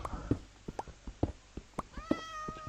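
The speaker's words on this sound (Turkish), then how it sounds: "Kediler de var." Several short cat meows in Minecraft, close and fairly loud, spaced irregularly with quiet gaps between them and no talking.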